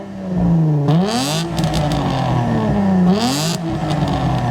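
A V6 sports car exhaust revs hard twice, rising and falling in pitch with crackles and pops between, loud and close, no voices.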